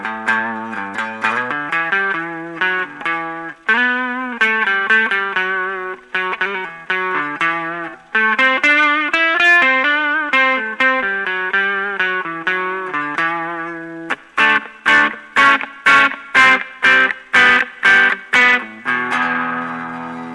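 An electric guitar played through a Fender amp with a Nastygram DIY distortion pedal engaged, thin, bright and gritty, first sustained melodic notes and chords, then a run of sharp rhythmic strummed stabs, loud and close with no talk.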